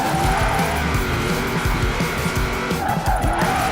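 A car drifts in the Forza Horizon 4 video game, its engine roaring loudly and continuously while the tires squeal throughout the slide, with a faint voice speaking underneath.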